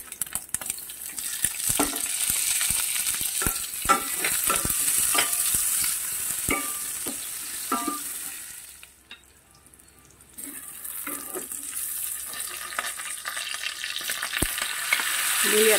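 Garlic and onion fry in rendered pork fat, sizzling continuously while a utensil scrapes and stirs with frequent clinks, the sizzle briefly dropping away before resuming.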